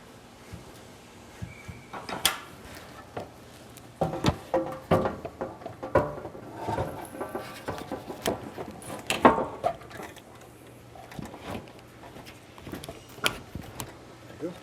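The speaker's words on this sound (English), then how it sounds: "Now I'm reinstalling this bracket. I want to make sure I tighten this down." A bracket is tightened down under the hood of a 2004-2007 Ford Super Duty F250/F350, with close metallic clicks, ratcheting and clunks in irregular bursts, and someone speaking at times.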